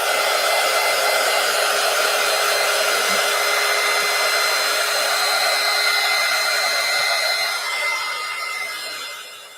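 A hair dryer drying paint on a collage pumpkin blows with a continuous loud whooshing hum, steady and close, tapering off slightly at the end.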